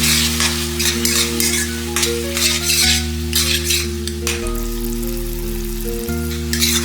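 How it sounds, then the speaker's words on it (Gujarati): Tomato-based masala with crushed tomato and salt sizzling in a pan for Kathiyawadi-style sing bhujiya curry, with continuous frying crackle and the scrape and clink of a spoon stirring, plus a steady low hum in the background. "તમે જોઈ શકો છો કે આપણો મસાલો સરસ શેકાઈ રહ્યો છે."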